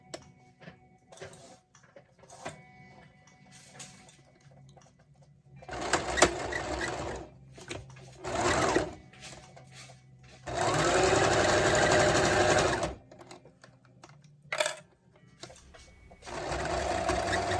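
A sewing machine stitches a fabric face mask in several bursts of fast, loud mechanical whirring and clatter. Quieter gaps between the runs hold handling noises and soft clicks.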